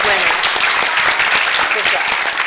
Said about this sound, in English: let's have one more round of applause to congratulate all of our Pennsbury Lift Character Award winners.